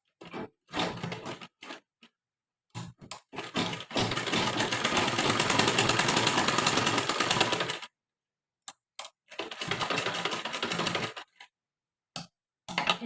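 A sewing machine stitching a lehenga blouse, close and loud, running in bursts: a long steady whir of several seconds, a shorter run later, and brief stops and clicks in between.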